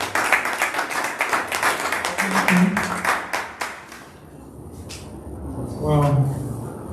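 An audience at a speaking event breaks into applause, a dense patter of clapping that fades out after a few seconds. A voice follows in the quieter tail.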